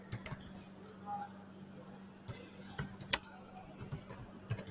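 Typing on a computer keyboard: sparse, irregular clicks and clatters of keys, some sharper taps standing out, over a quiet background hum.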